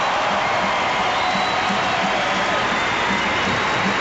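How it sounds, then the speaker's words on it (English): A sellout crowd applauds and cheers for Coach Sutton back at his alma mater, a dense, steady roar of clapping and voices filling the whole stretch without a break. "Listen to this sellout crowd."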